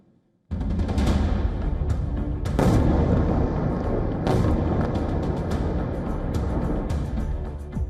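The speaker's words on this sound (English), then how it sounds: "A series of explosions ring out." Explosions from a Russian missile and drone strike erupt after a brief quiet into a sustained, heavy roar, with louder booming bursts rising out of the continuous rumble.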